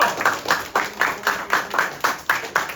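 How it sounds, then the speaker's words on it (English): Students in a classroom clap together in a steady, evenly spaced rhythm. The claps are fairly quiet and moderately close, with several sharp bursts that keep a regular beat. "All right, guys, clap it up."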